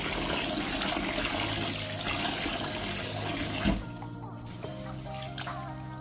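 Water pouring onto guinea corn (sorghum) grains in a container for washing, a loud rushing, splashing flow that stops abruptly, followed by softer trickles and drips, with no talking.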